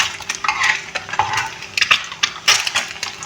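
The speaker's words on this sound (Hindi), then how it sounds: "ये हो रहा है एग का हाफ फ्राई" An egg half-fry cooks in a pan, with a loud, close sizzle under busy scraping and stirring from a spatula that comes in irregular sharp bursts.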